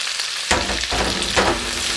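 Tofu, spam, onion, celery and chili being stirred together in a hot pan, a steady close sizzle with scraping stirs that surge twice during the short stretch, no talking.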